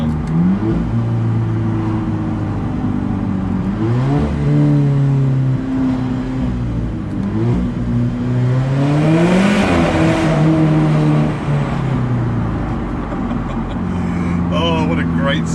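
An Alfa Romeo 4C engine revs through a tunnel in rising and falling sweeps of throttle, loud and echoing, with no talking over it.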